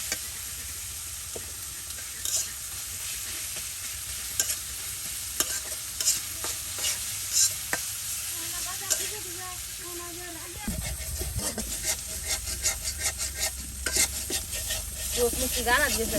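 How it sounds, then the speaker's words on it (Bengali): Ground spice paste with onion, garlic and chili frying in a pan for a village-style fish head curry, a steady close sizzle with stirring scrapes and clinks, under intermittent voices. "বাটা মশলা দিয়ে পেঁয়াজ রসুন মরিচ সব কিছু কিন্তু ভেজে নেওয়া হচ্ছে"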